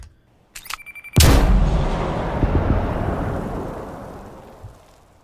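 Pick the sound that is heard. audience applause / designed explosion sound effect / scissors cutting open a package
designed explosion sound effect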